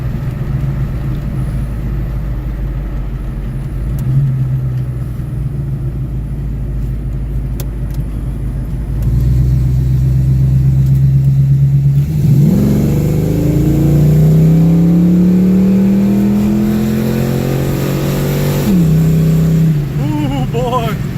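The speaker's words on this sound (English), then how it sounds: "Good running car for being mostly stock." A mostly stock car drives and accelerates hard from inside the cabin, its engine pitch rising steeply through the gears with a sharp shift and renewed climb near the end.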